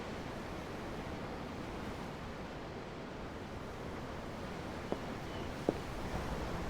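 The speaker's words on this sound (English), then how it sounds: "I'm looking at the ocean." Steady ocean waves and surf wash continuously in a Tales of Arise scene at sea, a broad even roar with two faint clicks near the end and no talking.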